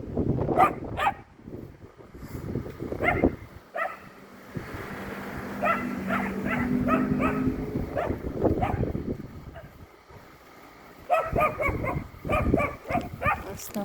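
Dogs from a pack gathering on an abandoned lot next to a house in Grozny in winter bark and whimper intermittently, mixed with nearby talk and outdoor background noise.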